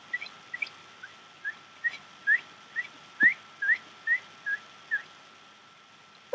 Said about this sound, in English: And yes, I did just make that whistling noise.